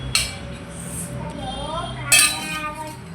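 Plates and dishes clink together while pani puri is served at home, two bright clattering bursts heard close up under talk.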